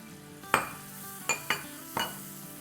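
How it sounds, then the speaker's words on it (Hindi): Chopped tomatoes frying in a karahi for a paneer dish, with a soft steady sizzle and a few sharp spoon scrapes and clinks against the pan, close and alone. "बस अब इसको अच्छे से भूनेंगे ताकि टमाटो का जो लिक्विड है वो बिल्कुल ड्राई हो जाए।"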